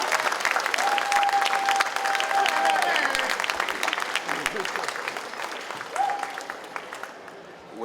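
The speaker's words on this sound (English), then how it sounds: "Can we get one more round of applause for all of them, please?" A Comic-Con crowd at the Wizard World 2016 Hometown Heroes ceremony in Sacramento gives sustained applause with scattered whoops, loud and dense at first, then thinning toward the end.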